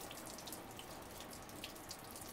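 Tap water runs steadily at a surgical scrub sink, a continuous broad hiss and splash with no speech.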